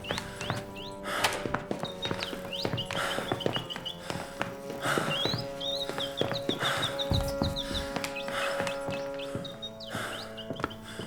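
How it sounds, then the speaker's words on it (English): Bird chirps repeat through a horror game scene in Ad Infinitum, with short high calls recurring over a dense, layered ambient background of low tones and scattered thuds. "I really need to turn that bird off."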